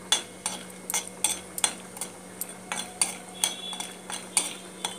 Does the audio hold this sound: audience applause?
no